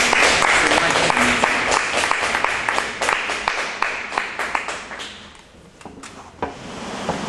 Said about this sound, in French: Merci, nous applaudissons.